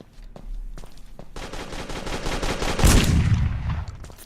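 Video-game shotgun firing at close range, a rapid burst of loud blasts with a heavy boom near the end, followed by a fading tail.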